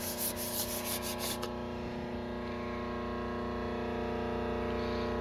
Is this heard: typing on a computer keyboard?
no